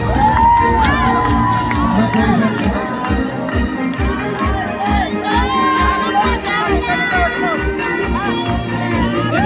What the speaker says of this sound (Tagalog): Milyong palakpak para kay Alan!